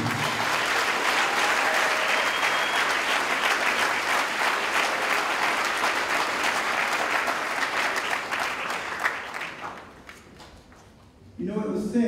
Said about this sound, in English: I would like for all of you to give yourselves a round of applause